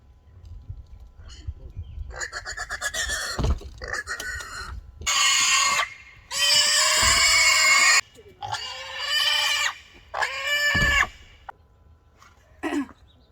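Pigs squeal and scream in long, piercing bursts, loud and close, with shorter grunting cries between them and a few quiet gaps.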